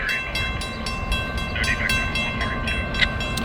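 A train, I-142, rolls past a lowered crossing gate near a rail yard, a steady rumbling roar with faint rhythmic clatter and a sustained tonal ring throughout.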